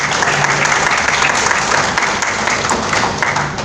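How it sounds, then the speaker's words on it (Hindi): Audience applause at a public talk on self-reliance and employment, a dense continuous wash of clapping from a crowd that holds steady and loud throughout. "ताली नहीं बजाओगे?"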